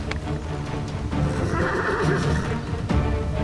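A horse gives a loud, drawn-out neigh up close, rising through the middle of the sound before tapering off amid faint background noise.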